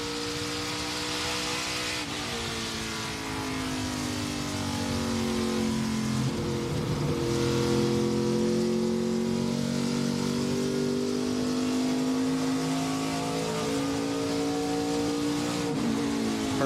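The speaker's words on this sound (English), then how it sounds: "I want to hear what this car sounds like right now in this race." An ARCA Menards Series race car engine roars steadily at high speed at Phoenix Raceway, its pitch shifting slightly as it accelerates and eases, loud and continuous with no talk.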